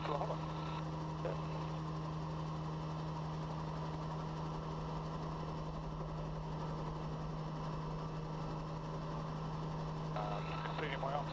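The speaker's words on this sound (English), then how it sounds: "checking the engine instruments are all in good order, and so lifting into the hover" A Westland Sioux helicopter's engine runs at a steady, loud drone with a constant low hum and vibration as the aircraft lifts into a hover, unbroken for about eleven seconds.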